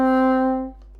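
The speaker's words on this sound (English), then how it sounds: "When you put the reed onto the bassoon, it sounds like this." A bassoon with its double reed attached sounds one sustained low note, rich in harmonics and close, holding steady for about three quarters of a second and then stopping cleanly into silence.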